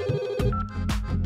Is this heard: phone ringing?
yes